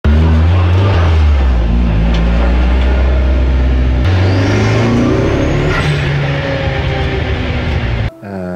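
Loud engine droning of an all-wheel-drive Mk1 Volkswagen Golf with rising and falling pitch as it revs up, continuous and close, cutting off abruptly near the end.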